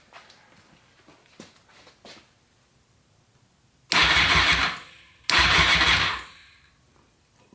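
Two loud bursts of a Honda VFR 800 motorcycle engine cranking over, each lasting over a second, preceded by a few faint clicks and quiet handling noises, with no talking.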